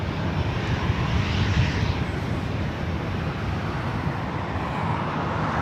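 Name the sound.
WestJet Boeing 737-800 jet airliner at LAX airport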